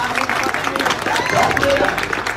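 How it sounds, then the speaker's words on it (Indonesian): An audience claps and cheers to welcome a speaker at an evening talk for Indonesian students in Jordan. The applause is steady and fairly loud, with a voice speaking over it. "Beri tepuk tangan dan beri semangat kepada Bapak Amin"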